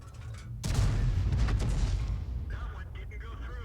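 A tank cannon firing in a video game, an AMX 13 F3 AM, booms out loudly and close, then its heavy rumble fades away under faint background noise.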